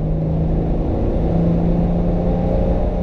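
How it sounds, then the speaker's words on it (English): Hudson Hornet engine revving under acceleration, a loud, steady low rumble and drone of the car's engine holding constant and close throughout, with no voices. "It's a lot of fun to just goose it and hear that noise and pass other cars"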